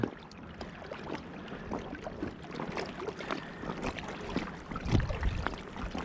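A float tube is driven fast across open water while pike fishing, with steady sloshing and splashing, wind buffeting the microphone and a few louder surges near the end, and no speech.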